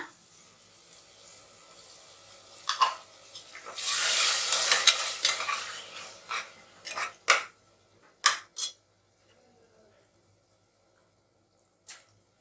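Yogurt is stirred into sizzling chicken biryani masala in a pot: a loud, hissing sizzle swells for a couple of seconds, followed by several sharp clinks and scrapes of a spoon against the vessel, then near quiet.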